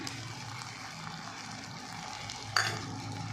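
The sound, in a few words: stirring corn into cooked rice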